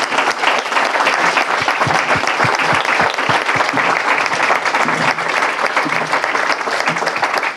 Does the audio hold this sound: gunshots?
no